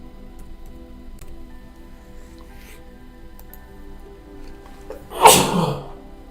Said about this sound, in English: Apologize for sneezing in y'all's ear.